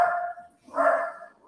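A dog barks indoors during a hearing held over a call, with two bursts of loud, close barking separated by a short pause and a third bark starting at the end.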